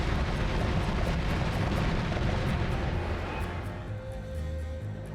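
Meteor spell explosions crackle like fireworks in the video game Noita, a continuous loud roar of overlapping blasts and rumbling booms that eases slightly toward the end.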